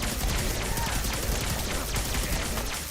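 Continuous loud bursts of gunfire in Fallout 4 as an enemy soaks up bullets, the shots blurring into a dense, unbroken rattle that fills every moment.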